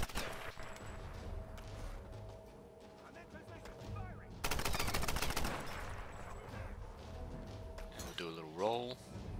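Gunfire in Tomb Raider 2013 comes as scattered shots, then a dense burst of rapid automatic fire midway, with voices speaking over the game sounds.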